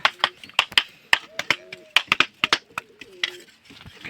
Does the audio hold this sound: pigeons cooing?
yes